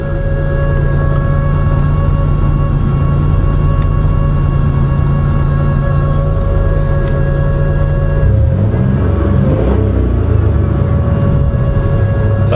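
A 1986 Lesharo RV engine runs steadily on a road test, a loud continuous drone with sustained tonal hum and a shift in texture near the end as the road noise changes.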